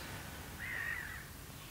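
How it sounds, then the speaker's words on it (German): A single drawn-out crow caw at middle distance, one harsh call rising out of a quiet outdoor background. "Vögel hat es auch noch."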